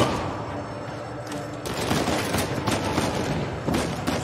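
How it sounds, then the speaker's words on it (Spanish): Bursts of rapid gunfire crackle back and forth in a noisy, dense battle mix from the video game Uncharted 4, several volleys overlapping without pause. "me mola cómo suenan los disparos"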